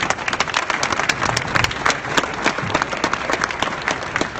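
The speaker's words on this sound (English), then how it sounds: "a big round of applause for you guys" Audience at a Breakbulk Americas 2015 event applauding for veterans' family members, steady dense clapping from a crowd, close and fairly loud, no talk over it.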